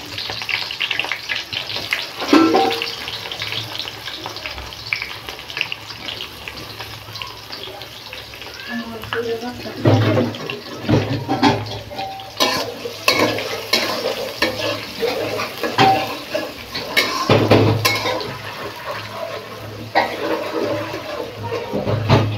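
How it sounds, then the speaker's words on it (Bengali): Onion and bay leaves fry in hot oil with a continuous sizzle, broken by stirring and scraping in the pan, loud and close throughout, while cooking a duck curry. "আমার তেল গরম হয়ে গেছে, আর আমি আস্তে আস্তে এই যে পেঁয়াজ আর তেজপাতা দিয়ে দিতেছি।"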